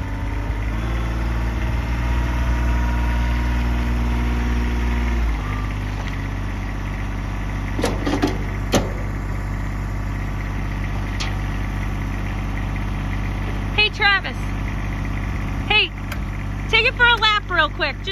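Kubota RTV1100 4x4 diesel utility vehicle with enclosed cab and electric dump bed idling steadily nearby, a low constant engine drone that shifts pitch partway through, with people talking over it.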